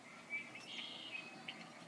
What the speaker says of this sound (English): My cat's watching bird videos on my tablet.